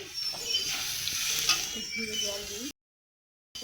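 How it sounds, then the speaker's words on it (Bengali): Ground ginger, turmeric, cumin and chili powder frying in a pan for a banana flower curry, a steady close sizzle with spoon scrapes that stops abruptly into silence near the end. "মশলাটা ভেজে নিয়ে"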